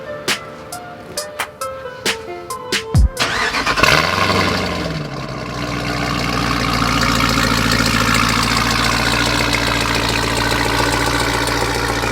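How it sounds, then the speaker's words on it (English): A modified truck fitted with a boost pulley cranks after a few sharp clicks and knocks, fires up with a loud roar, then settles into a steady, throaty idle that holds close and loud to the end. "The truck. Let's do a startup."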